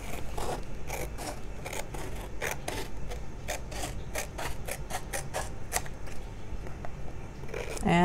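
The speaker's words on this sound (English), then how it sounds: "grab my scissors and just trim this" Scissors snipping paper for a garden collage journal cover, a rapid series of sharp crisp cuts, about a dozen close snips in quick irregular rhythm over a soft rustling background.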